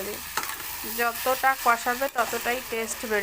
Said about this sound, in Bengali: চাল সবজিটা দিয়ে সুন্দর করে কষাতে হবে